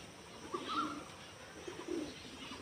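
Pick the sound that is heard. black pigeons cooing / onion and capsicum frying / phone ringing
black pigeons cooing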